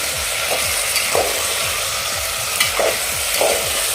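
Steady sizzling of vegetables sautéing in oil with tempering spices, with regular scraping strokes of a spatula stirring the pan.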